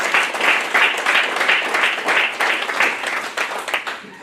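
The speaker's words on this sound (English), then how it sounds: "Let's give him a round of applause." Seminar audience at a forex bootcamp applauds, dense clapping in pulsing waves that stays loud and close for the whole stretch.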